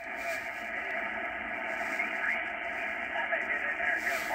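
Drake SPR-4 shortwave receiver being tuned, a continuous hiss of static with warbling, shifting radio tones and faint garbled signal as the dial moves.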